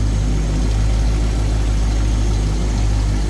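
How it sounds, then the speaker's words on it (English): A 1958 Pontiac Bonneville two-door hardtop's 370 V8 with automatic transmission idles steadily, a close, even low rumble with no voices. "There's that 370 V8 paired up with the automatic transmission."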